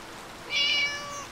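Cat meowing in the video game Harvest Moon Light of Hope, a single short, clear meow rising out of quiet background sound with no one talking.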